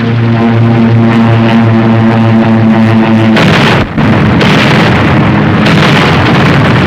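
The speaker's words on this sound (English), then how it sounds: "There go the bombs." A loud, continuous roar with a sudden heavy blast partway through, then rumbling and crackling debris, as aircraft bombs explode at close range on the front in North Africa.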